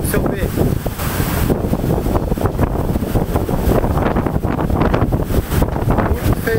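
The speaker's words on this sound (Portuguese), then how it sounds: "Muito feio aqui. Muito vento mesmo." Strong storm wind sweeps across a river, roaring and buffeting the microphone in a loud, continuous rush with gusty surges throughout.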